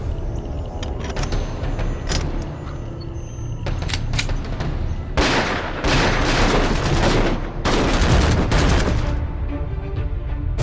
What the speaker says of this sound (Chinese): 在乡镇周围响起大量枪声